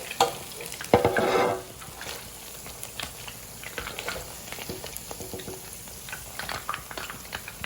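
Chicken pieces fry in hot oil in a pan with a steady crackling sizzle, plus a louder burst of stirring or movement near the start, close and alone without talk.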